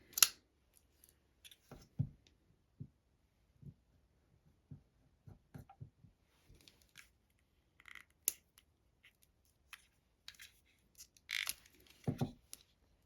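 Scissors cut up Gorilla double-sided sticky tape in scattered short, faint snips and clicks with quiet gaps between them, close and alone.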